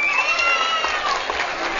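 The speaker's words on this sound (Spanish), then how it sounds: "¡Aplausos para la candidata número 3!" A beach crowd at a seaside queen pageant gives candidate number three a short burst of clapping and cheering, with children's shouts mixed in; loud and continuous for about two seconds.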